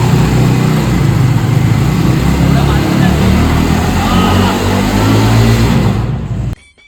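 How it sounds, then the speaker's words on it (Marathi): A car does a burnout at a college event, its engine revving hard in a loud, sustained roar with tyre noise, then cutting off abruptly at the end; people talk underneath. "बर्नआउट बघा"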